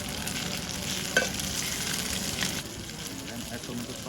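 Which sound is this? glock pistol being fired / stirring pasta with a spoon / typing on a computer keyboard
stirring pasta with a spoon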